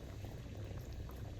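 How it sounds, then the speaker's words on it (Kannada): A pot of fish curry with bangude (mackerel) bubbles at a boil as fish goes in, giving a low, soft, steady burbling of liquid, close and quiet with no talking. "ಬಾಯ್ಲ್ ಆಯಿತು. ಇವಾಗ ನಾನು ಫಿಶ್ ಹಾಕ್ತಾ ಇದ್ದೇನೆ ನೋಡಿ."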